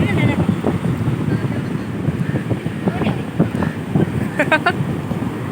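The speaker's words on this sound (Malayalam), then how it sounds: "കടൽ തിരമാലകളെ, കടൽ തിരമാലകളെ, വരൂ." Sea waves wash onto Parappanangadi Beach, a continuous rushing surf buffeted by wind noise on the microphone, with people talking and calling out nearby over it.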